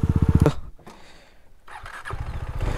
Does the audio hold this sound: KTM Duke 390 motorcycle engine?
yes